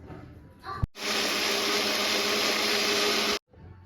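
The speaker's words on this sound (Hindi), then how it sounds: "अभी हम इसको करते हैं ग्राइंड" A kitchen mixer grinder whirs loudly and steadily for about two and a half seconds while blending aam panna, a mango drink with chaat masala. It starts and stops abruptly, with faint clatter before it starts.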